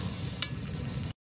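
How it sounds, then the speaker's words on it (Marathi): Chana dal frying in a garlic and ginger tempering oil, a steady close crackling sizzle with a faint scrape, then abruptly cutting off into silence. "चणा डाळ कशी मस्त तळून निघाली फोडणीमध्ये"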